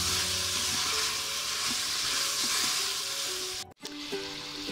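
Pieces of veal sauté in a Cookeo multicooker, giving a continuous loud sizzle with scraping stirring noises. Near the end the sound briefly cuts out and then picks up again, with no voices.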